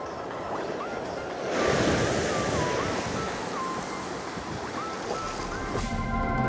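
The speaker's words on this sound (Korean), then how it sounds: "들물로 돌아서면서 파도가 거세지고 있다" Strong sea waves surge and wash at a rocky fishing point as the tide turns to flood, a continuous loud surf roar swelling and easing with wind buffeting the microphone.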